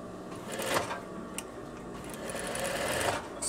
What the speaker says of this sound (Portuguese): eu vou passar um pé de máquina aqui, a largurinha do calcador